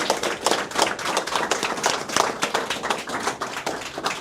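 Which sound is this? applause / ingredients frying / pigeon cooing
applause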